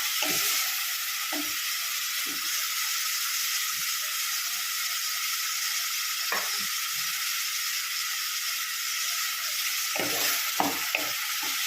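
Tomatoes and onions sautéing in a pan for Kumbakonam kadappa, a loud, continuous hissing sizzle throughout, with occasional soft knocks of a spoon stirring close by.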